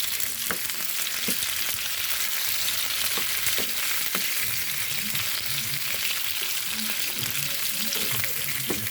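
Fried pork sizzles in a pan with garlic and onion. Steady hissing oil runs throughout, with a few sharp clinks from a spoon or spatula and no talking.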